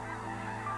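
A goose gives one continuous nasal honk, close and loud, with the steady buzz of flocking migratory wildfowl over a refuge planted with corn, and no voices.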